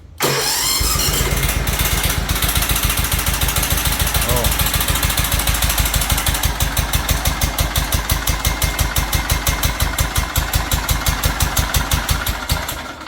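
A Toro riding lawn mower engine at half throttle with the choke on cranks briefly and catches, then runs loud and close with a steady rapid thumping beat for the rest of the stretch.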